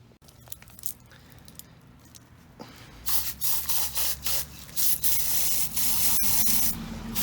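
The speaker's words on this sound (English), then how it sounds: "I'm just gonna spray a little bit, let it sit for a minute or 2" Cleaner sprayed onto a clogged EGR part from a Dodge Ram 2500 6.7 diesel truck: faint clicks and handling at first, then a run of loud, close hissing spray bursts that merge into a steady spray.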